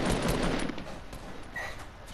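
Rapid gunfire from the video game Fortnite: a short, loud cluster of shots in quick succession, tapering off within about two seconds.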